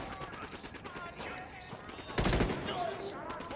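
Automatic gunfire in Ghost Recon Wildlands rattles in quick repeated bursts throughout, with a heavier blast near the middle and voices talking underneath.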